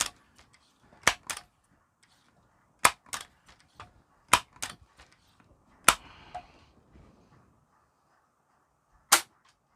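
Crosman Legacy 1000 air rifle shot with a heavier pellet: several sharp, loud cracks spaced irregularly over about ten seconds, each crisp and isolated, with faint handling clicks between shots.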